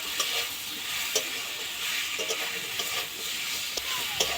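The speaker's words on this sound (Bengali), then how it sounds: "পরিমাণ মতো লবণ দেব, হলুদ গুঁড়ো দেব, দিয়ে একটু নাড়াচাড়া করে নেব।" Rohu fish pieces stirred with salt and turmeric in a hot pan give off a steady oily sizzle and hiss, broken by scattered scraping knocks of the spoon against the pan.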